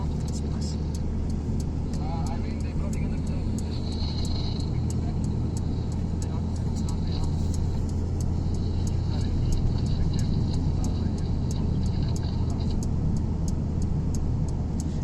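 A 2 liter turbo car engine rated at 310 kilowatts and 500 newton-metres, sitting at a steady idle at a motoring festival at Kyalami, with a continuous low rumble throughout and a faint tick in the background.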